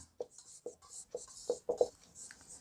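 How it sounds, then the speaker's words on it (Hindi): Writing on a board during a Class 9 maths lesson on Heron's formula: about six short, crisp strokes and taps in quick, uneven succession, close and fairly loud, with no talking. "तो यहाँ लिखेंगे हल।"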